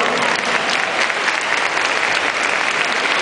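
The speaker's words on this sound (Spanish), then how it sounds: "Ese aplauso tanto a las chicas como a los chicos." An audience at a charity gala with a dance exhibition applauds loudly and steadily, a dense wash of many clapping hands that holds unbroken for a few seconds.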